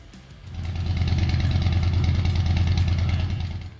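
A Harley-Davidson FX Superglide motorcycle engine fires up and runs steadily with a deep, lumpy low-pitched throb, close and loud, holding a constant idle-like rhythm for a few seconds before easing off.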